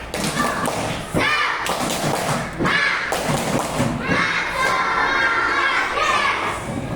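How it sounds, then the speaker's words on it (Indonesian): Schoolchildren in a classroom perform the 'tepuk semangat' clapping chant, a loud burst of claps and thumps mixed with shouted children's voices in a rhythmic group cheer. "Sekarang tepuk semangat."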